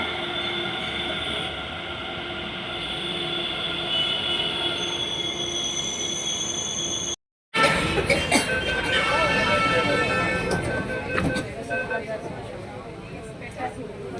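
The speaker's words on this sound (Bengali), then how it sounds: "মেট্রো চলে এসছে এবার আমি এটাতে চড়ে যাব" A metro train pulls into a station and runs on, a steady rumble with high wheel squeal and whining tones that swell after a brief cut, loud and close.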